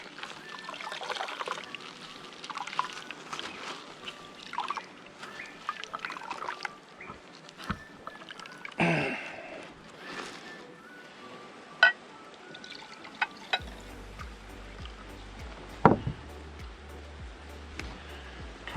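Coconut milk is poured and squeezed by hand from freshly grated coconut, making soft trickling and dribbling liquid sounds with wet splashes, fairly quiet and close, with no talking.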